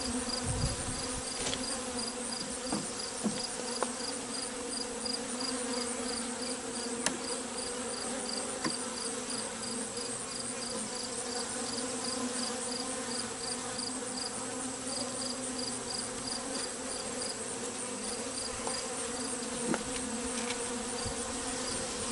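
Honey bees swarming around an opened hive during an inspection, a dense continuous buzzing hum close by, with occasional faint clicks and individual bees droning past.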